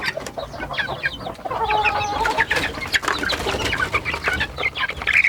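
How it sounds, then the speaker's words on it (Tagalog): Hen and small chicks clucking and cheeping in a backyard coop, with steady overlapping peeps and soft clucks close by, continuous throughout. "update ko kayo sa aking sisiw"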